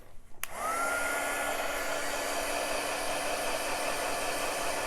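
A hair dryer clicks on and blows a loud, steady whirring rush close by, drying paint on a pumpkin sign, running evenly without any voices.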